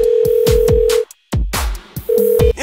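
Mobile phone dialing tone in short bursts, steady beeps broken by gaps and mixed with sharp clicking key or impact sounds, loud and close, no talking.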